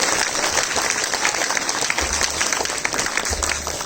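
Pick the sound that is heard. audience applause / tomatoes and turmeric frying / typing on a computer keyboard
audience applause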